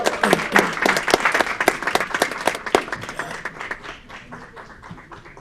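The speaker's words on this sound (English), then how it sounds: "Another round of applause for our new board members" A council-meeting audience claps for newly sworn-in board members, a dense burst of close, sharp hand claps that thins out and fades over several seconds.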